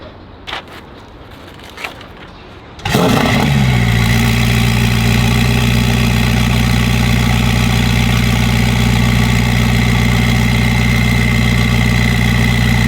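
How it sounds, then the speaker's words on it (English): A 2024 Ferrari SF90 with Valvetronic exhaust fires up after a few quiet seconds, its engine catching with a sharp surge and then settling into a loud, steady, humming idle close by. "we're gonna fire this thing up so you guys can hear the Valvetronic exhaust"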